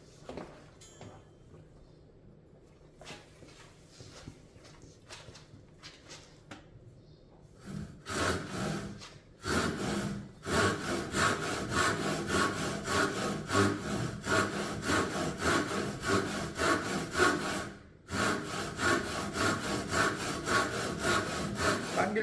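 A hand saw rasps steadily through wood in quick back-and-forth strokes, close and loud after a quieter start with light handling noise.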